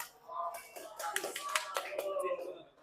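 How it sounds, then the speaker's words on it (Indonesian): A classroom of student teachers breaks into a short burst of hand clapping, fairly faint and close, with voices mixed into the applause. "Tepuk tangan dulu dong."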